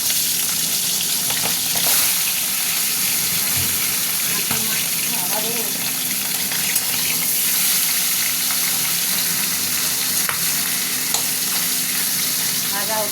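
A fish head frying in hot oil in a wok, giving a steady, close crackling sizzle with occasional sharper pops and spatters that runs the whole time without speech.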